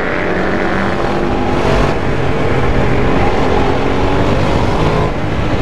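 A Kasinski Comet 650 motorcycle cruises along a highway, its engine holding a steady, loud drone mixed with wind rush, and no one speaks.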